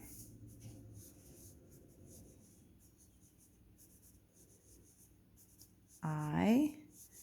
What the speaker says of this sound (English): So I'm going to write my name in block letters.